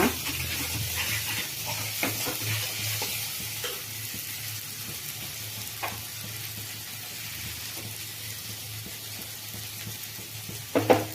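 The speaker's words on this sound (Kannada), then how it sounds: "ಈಗ ಮಸಾಲೆ ಎಲ್ಲ ಫ್ರೈ ಆಗಿ ಎಣ್ಣೆ ಬಿಟ್ಕೊಳ್ತಾ ಬರ್ತಾ ಇದೆ" Ground masala frying in oil for egg chilli masala, a steady close sizzle with occasional stirring scrapes and clinks, no voices.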